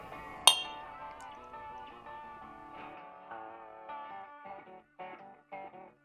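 Glasses clink together in a single bright, sharp chime for a toast at a whiskey and spirits distillery bar in Fort Drum, upstate New York. Soft music with sustained tones continues underneath.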